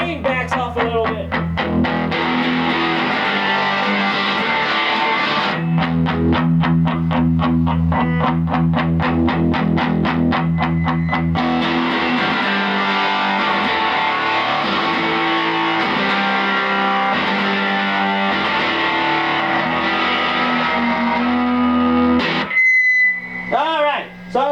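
Electric guitar played through a vintage Rickenbacker TR14 amp with a softer pick attack and the gain backed off, strummed chords and picked notes ringing steadily and loud for most of the stretch before a brief quiet gap near the end.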